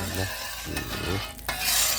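Loud, steady sizzling of a fried mussel pancake in a small hot pan, with scraping and stirring sounds from a spatula.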